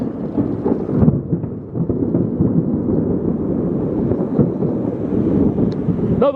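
Thunder from close lightning in a severe thunderstorm over Babylon rumbles steadily and loudly for several seconds, mixed with wind buffeting and rain noise, with no voices.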